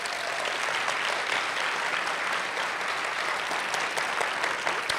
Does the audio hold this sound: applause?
yes